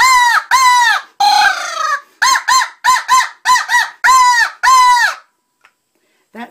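A handheld crow call blown to imitate crows, giving a loud, close series of about ten harsh caws in quick bursts, then falling silent.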